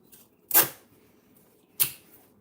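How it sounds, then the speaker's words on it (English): Tape is pulled off its roll and run across a sink during refinishing, heard as two sharp, close tearing rips about a second apart against a quiet background. "And then I'm just going to run some tape right across."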